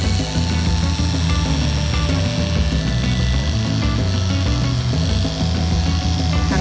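Electric hair clippers buzz continuously and loudly while cutting a fade haircut, a close, steady droning hum with slight variations in pitch as the blades move through hair.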